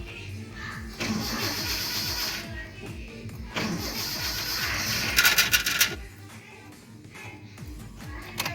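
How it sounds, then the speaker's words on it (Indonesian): A Toyota Kijang engine, just after carburetor work, cranks and catches, then runs at an uneven idle with a couple of brief rev surges before settling, heard close up with a faint voice nearby. "Mesin udah nyala nih."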